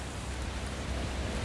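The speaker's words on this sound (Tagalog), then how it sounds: "hindi mo alam na ganito pala kalakas ang ulan" Heavy rain pouring outside a hypermarket, a dense, even roar of falling water with no breaks, loud and steady throughout.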